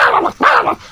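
A voice imitates a dog barking: two loud, close, throaty bark-like yelps in quick succession, given as part of a performance of animal sound impressions.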